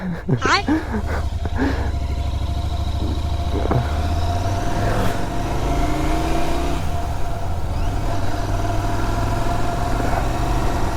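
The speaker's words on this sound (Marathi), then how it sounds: "कोल्ड स्टार्ट झाली बाईक" A motorcycle engine idles steadily after a cold start with a low, continuous rumble while people talk nearby and a dog barks briefly at the start.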